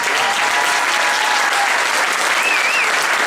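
An audience in a hall applauds steadily and loudly throughout, a dense wash of clapping from many hands without a break.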